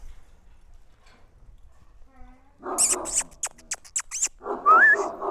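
A dog named Malaklı gives a few short whimpering, yelping sounds close by after a quiet start, with a voice talking over them.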